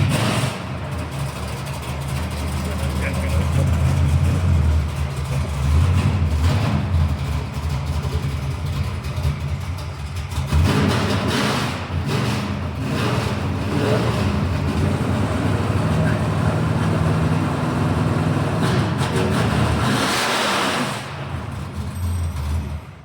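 A car with a 415 engine and Black Widow exhausts roars loudly and steadily, its revs swelling and easing in several surges, with voices partly heard underneath.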